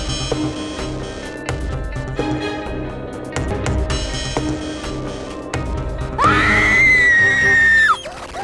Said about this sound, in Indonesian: Kok kamu teriak-teriak?